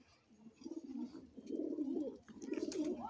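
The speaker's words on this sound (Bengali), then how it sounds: "দেখুন অসংখ্য কবুতর" Pigeons kept for breeding coo in soft, throaty, repeated phrases, close by and fairly quiet, several calls overlapping in a gentle rolling rhythm.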